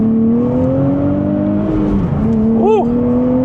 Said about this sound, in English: I currently have that S mode on, so it'll rev match for me on the downshifts.